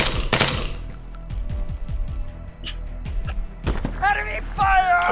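Enemy machine gun fire in the Arma 3 Apex campaign ambush: rapid bursts of automatic shots crack close by in quick rhythmic strings, with louder sharp reports near the start and end.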